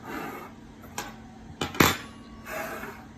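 Metal spoons and forks clink and clatter as they are set down on a surface, a few brief separate chinks against a quiet background.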